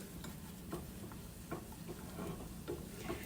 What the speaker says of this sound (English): Get me a little spoon. Go stir that down.